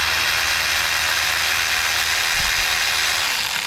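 Ratchet with a small socket working on the A/C compressor bolts of a 2014 Hyundai Accent, giving a faint mechanical clicking under steady broadband noise with a few low thumps, no talking.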